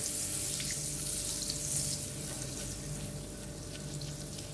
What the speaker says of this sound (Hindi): और बीच में डालेंगे 2 टेबल स्पून ऑफ हमारा जो बटर है। ठीक है, और इसको मेल्ट होने देंगे।